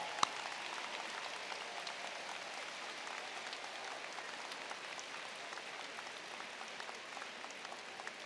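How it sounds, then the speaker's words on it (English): Applause from a high school commencement audience honoring military veterans, steady scattered clapping from a large crowd that continues evenly throughout, moderately distant and fairly soft. "Please give them a round of applause."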